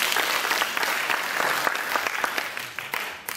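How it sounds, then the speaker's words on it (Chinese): A forum audience in Keelung applauds to welcome the city's mayor, a dense, steady burst of many hands clapping close by, lasting a few seconds with no speech over it. "掌声欢迎我们的市长"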